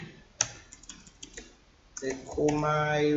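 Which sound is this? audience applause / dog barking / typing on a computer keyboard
typing on a computer keyboard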